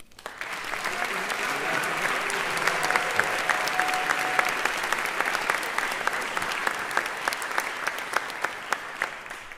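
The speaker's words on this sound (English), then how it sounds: "we appreciate your applause just the same" Steady audience applause at a college honors and awards ceremony, dense continuous clapping with sharp individual claps standing out, holding at an even level for nearly ten seconds.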